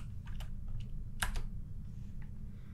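Keys on a computer keyboard tapped in short bursts as a search term is typed, soft and close with a steady low hum underneath.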